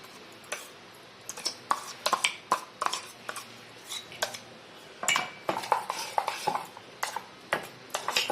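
Raw pieces and chutney for a homemade cucumber pachadi being mixed in a bowl, with a quick run of sharp clinks and taps of a spoon against the vessel in uneven rhythm, close and clear, with no talking.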